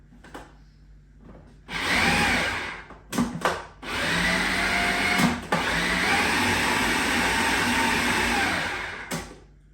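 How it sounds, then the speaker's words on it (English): A blender whirs loudly through a raw carrot cake mixture, running in steady bursts with short pauses and restarts between them, close and with no talking. "I'm just kind of blending through this mixture"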